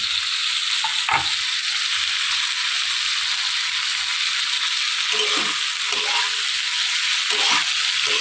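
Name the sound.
carrots, beans and green chillies stir-frying for hakka noodles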